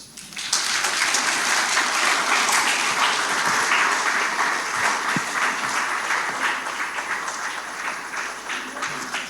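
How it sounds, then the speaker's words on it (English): Sustained applause from an audience at the Chartered Institute of Bankers Ghana 60th anniversary launch, dense and loud for several seconds before slowly thinning out. "A round of applause for our CEO, Mr. Robert Jatto"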